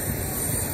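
A continuous broadband roar of F-15 and F-22 Raptor fighter jets at an outdoor airshow, steady and fairly loud, with no distinct passes or voices during the brief span.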